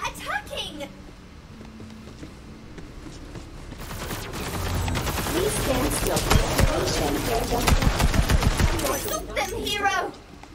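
Sustained gunfire in the video game Borderlands 3 builds into a dense, loud rattle of rapid shots over several seconds while game characters shout and talk over it.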